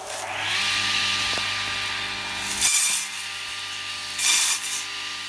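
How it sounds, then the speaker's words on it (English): A power tool, likely a motorized cutter, slices through a sheaf of thatching straw, giving a steady close whine with harmonic hum and two brief louder rasping bursts as the blade bites through the stalks. "here I'll just turn on this and I'll show how to cut up a sheath"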